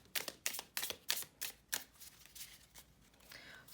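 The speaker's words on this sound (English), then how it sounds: "Let's shuffle this up and we'll lay out the cards." Tarot cards are shuffled in quick, crisp bursts of riffling and slapping, close and fairly quiet, with no talk.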